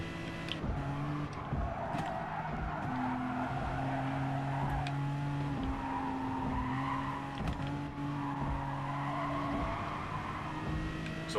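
Race car tyres squealing and skidding in GT Sport, with long sustained wavering screeches over a steady engine drone, loud and close, repeating through several corners.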